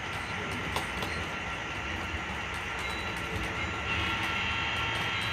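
A Boston & Maine GP9 model train locomotive runs steadily on a layout, giving a continuous rumbling, whirring drone with faint clicking, close and fairly loud with no talk.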